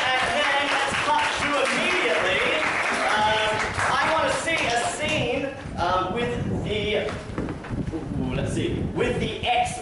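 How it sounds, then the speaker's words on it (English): An audience at a live improv show at the Soul Box claps and cheers in a sustained round of applause, with scattered voices mixed into the noise. "let's make our players feel welcome with a huge round of applause."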